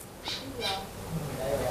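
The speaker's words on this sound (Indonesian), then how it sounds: "Nih burung gagak ya." Two short harsh calls from a crow being hand-fed, fairly close, with soft background noise between them.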